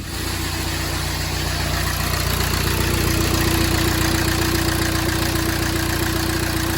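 A salvage-auction non-runner car's engine idles roughly just after starting, a steady loud mechanical drone with an uneven, lumpy pulse and a whining tone that creeps in partway through, close up and with no talking.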